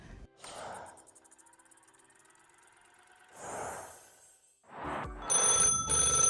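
Landline phone in The Sims video game ringing with repeated electronic bell bursts, close and clear, separated by quieter stretches.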